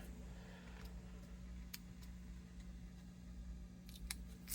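Scissors snipping through tape at a guitar bridge reglue on a Gibson J-45, a few sharp near clicks and cuts over a steady low hum.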